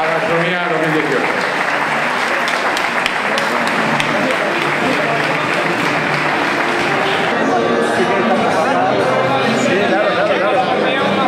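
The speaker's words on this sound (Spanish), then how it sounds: "Un aplauso para el niño, un aplauso." Sustained audience applause fills an awards ceremony hall at a regional young-chefs gastronomy prize event in Marbella, dense steady clapping mixed with crowd chatter throughout.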